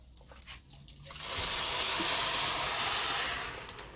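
Tap water pours into a pot of rice and lentils, a steady close rushing hiss that swells in, holds for a couple of seconds and tapers off, after a few faint clinks.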